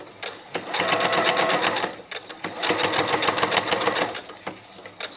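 Top stitching along pressed creases of a paper-pieced quilt with monofilament thread, the sewing machine hums in two long, close, steady runs broken by a brief pause.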